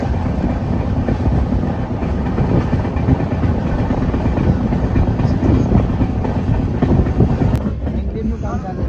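Inside a moving passenger train, a loud continuous rumble and rattle of wheels on rails runs throughout, with muffled voices of people talking in the carriage underneath.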